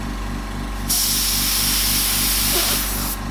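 Airbrush spraying paint texture onto a skull artwork, a bright steady hiss bursting on for about two seconds over a rhythmic compressor chug, close and loud.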